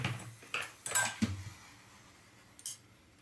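Metal clinks and scrapes of a ladle against a heated pan as cooking oil is poured, a few quick knocks close by, then a brief clatter after a pause.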